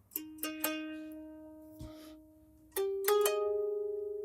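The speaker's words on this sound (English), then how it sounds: "koto sounds like this" Koto tones from GarageBand on iOS, played on the standard keyboard setting: a few plucked notes with bright attacks ring out clearly, then a pause, then more plucks that sustain with a slight shimmer, close and alone.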